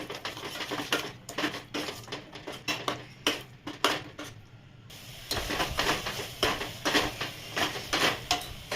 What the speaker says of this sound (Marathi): आता हा मसाला चांगला तेल सुटेपर्यंत परतून घ्यायचा आहे